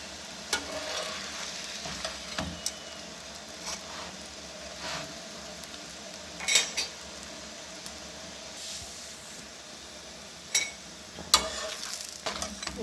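A paratha frying with ghee on a hot tawa: a steady, soft sizzle throughout, punctuated by occasional sharp scrapes and taps of a spatula, close and moderately quiet, with no talking.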